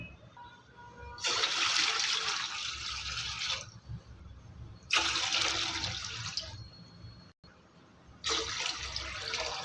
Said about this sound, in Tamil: நான் வந்து ரெண்டு லிட்ரு தண்ணி சேர்த்துக்கிறேன்